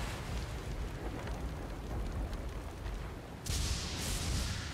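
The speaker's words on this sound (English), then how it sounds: "Oh, it's raining." Rain falls in the Tekken 8 reveal trailer as a steady moderate wash of noise, with a sudden brighter hissing surge in the last second.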